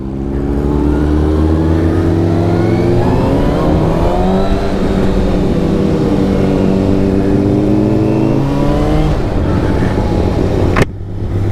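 A 2018 Kawasaki Ninja ZX-6R 636 with an Akrapovic slip-on exhaust revs hard and close, its loud engine tone climbing and sustained for several seconds, then falling off abruptly after a sharp click near the end.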